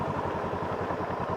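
A Honda CL500 motorcycle engine pulses with a fast, even, throbbing beat as the bike rides along a muddy forest road, heard close and fairly loud with no voices.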